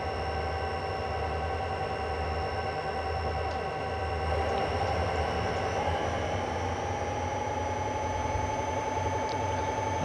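Locomotive 5911 in Train Simulator 2020 runs steadily for several seconds, a constant low diesel drone with faint rhythmic wheel clatter and a thin high tonal whine, no voices.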